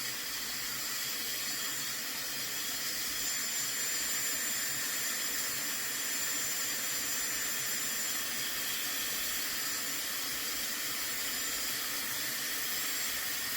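A Dyson Airwrap hair dryer blowing on its cool setting, a steady broadband whoosh of rushing air that holds unchanged throughout, close and fairly loud, with no talking.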